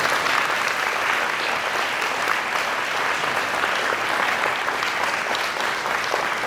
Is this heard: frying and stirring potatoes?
no